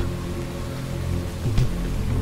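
Rain pours as a background effect in a Bengali audio story, a continuous wash of falling drops under a low rumble, with a brief soft knock partway through.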